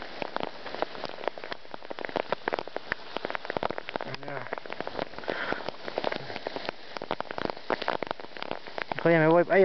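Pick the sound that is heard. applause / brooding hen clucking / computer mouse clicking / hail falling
hail falling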